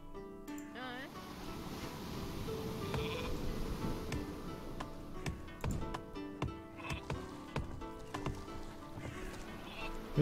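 In the video game Northgard, a sheep gives a faint, wavering bleat early on, over a steady bed of ocean waves and wind, with scattered game clicks and effects following.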